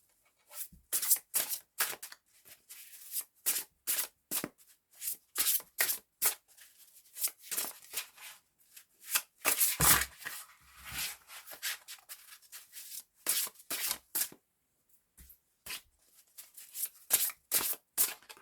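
Tarot cards are shuffled in quick, repeated riffling bursts with short pauses between them, close and fairly soft, with no talking.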